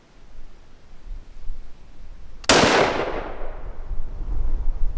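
A single loud outdoor blast of Tannerite detonating inside a pumpkin hits about halfway through, a sharp crack with a long rushing decay over steady wind and background rumble.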